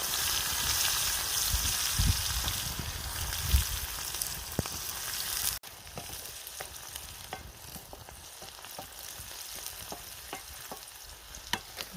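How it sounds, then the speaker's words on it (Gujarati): Garlic and then onion frying in hot oil for a green chickpea curry, a steady close sizzle with stirring scrapes and small crackles, louder at first and then settling into a softer crackling fry. "તેલ આવી ગયું તો આપણે લસણ નાખી. ડુંગળી નાખી દઈશું હવે."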